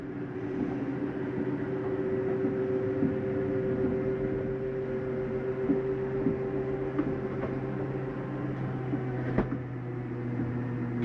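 A Jayco Eagle RV slide-out motor hums and drones steadily as the slide retracts, a continuous electric motor whine with faint clicks and knocks throughout, no voices.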